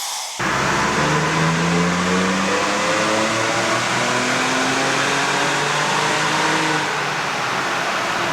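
A Ford Raptor's engine revs hard on dyno rollers, a loud, close roar with rising, sweeping tones over about eight seconds that then eases off, with no one speaking.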